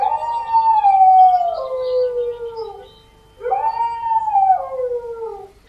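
A dog howls mournfully in the small hours, two long drawn-out wails with a short pause between them, close and loud against a quiet night.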